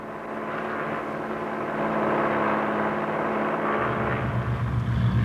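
A cloud-seeding plane fitted with silver iodide burners drones steadily overhead, its engine a broad, continuous whir that grows slightly louder and nearer toward the end, with no voices.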